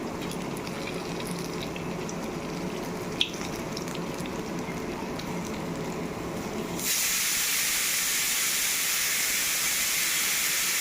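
Bara batter fries in hot oil, giving a steady bubbling hiss that suddenly grows louder and brighter partway through, with no voices.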